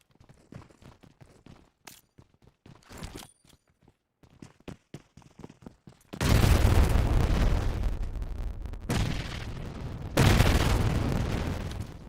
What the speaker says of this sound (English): Zen trying to push in with a grenade.